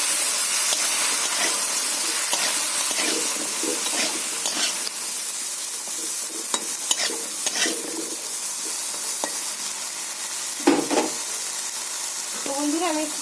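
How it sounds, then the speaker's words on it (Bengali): Broad beans and eggplant sizzle in oil left over from frying fish, a steady, close crackling hiss broken by scraping stirs and occasional louder spits. "এই মাছ ভাজা তেলের মধ্যে আমি সিম বেগুনটা ভেজে নেব"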